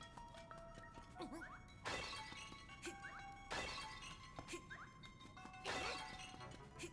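Clay pots shattering in The Legend of Zelda: Link's Awakening (2019), several crisp breaking crashes spaced a second or two apart over a quiet game background, with small chimes in between.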